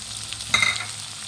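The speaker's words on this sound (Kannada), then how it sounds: "ಈರುಳ್ಳಿ ಚೆನ್ನಾಗಿ ಫ್ರೈ ಆಗಬೇಕು ಫ್ರೆಂಡ್ಸ್." Onion and green chilies frying in a pan for mango chitranna, a short soft sizzle with a brief stirring burst in the middle, close and alone.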